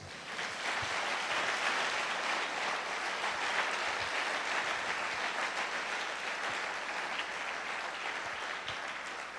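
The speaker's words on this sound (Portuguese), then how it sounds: "A salva de palmas." A church congregation at an evening service gives a round of applause, a steady wash of many hands clapping at moderate distance, fairly even in loudness for the whole stretch with no talk over it.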